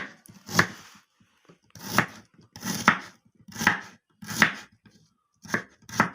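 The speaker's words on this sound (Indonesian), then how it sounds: "Bumbune gak tak gerus tak irisi karo lading ini wis beres" Knife chopping spices on a cutting board for stir-fried oyster mushrooms: about seven separate sharp chopping strokes spaced out irregularly, close and clear with quiet gaps between them, no talking.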